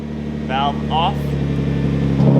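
A Nissan GT-R R35 returned to stock sits idling with its exhaust valve closed, a steady low rumble throughout, with a voice speaking briefly over it.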